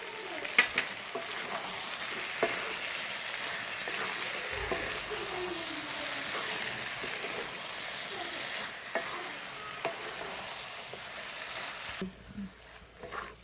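Liver roast with pepper powder, asafoetida and garam masala fries in a pan with a dense, constant sizzle broken by occasional spatula scrapes, and the hiss drops away sharply near the end.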